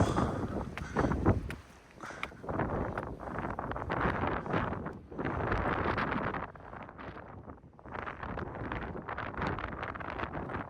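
Strong gusty wind on a coastal lookout at Cape Schanck, Mornington Peninsula, buffets the microphone in loud roaring bursts, dipping briefly between gusts, with no voices.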